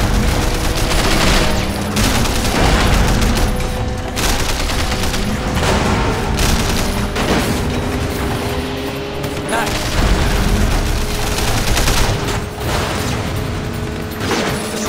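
Sleeping Dogs video game gunfire: loud, dense bursts of shots and crashes with mechanical clatter run almost continuously, while players talk over the action.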